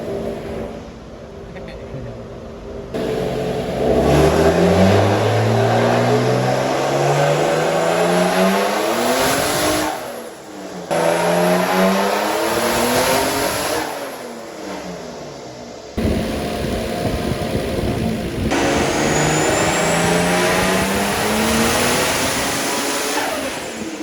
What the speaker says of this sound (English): Let's do some more pulls.